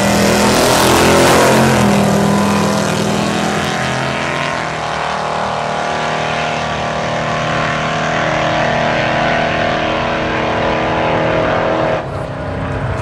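A drag race car launches and accelerates hard down the strip at St. Thomas Raceway Park, a loud sustained engine roar that holds for seconds before fading and cutting off near the end.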